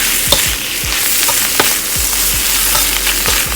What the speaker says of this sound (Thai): แหมผัดเข้าไปแล้ว